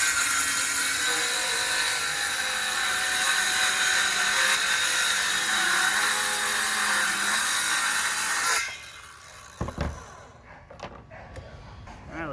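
A power saw rips through a length of laminate flooring clamped to a workbench, making a steady, loud whining cut that runs for several seconds. It then cuts off and a few clattering handling sounds follow.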